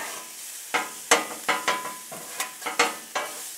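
Italian sausage browning on a Blackstone griddle gives off a close sizzle, broken by about eight sharp, evenly spaced scraping strokes like a spatula turning and stirring the links.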